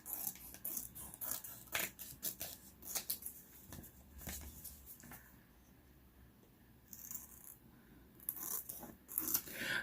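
Scissors snip through paper while homemade cash envelopes are cut out, a run of close, crisp cuts and rustles with a quieter pause midway before the snipping resumes.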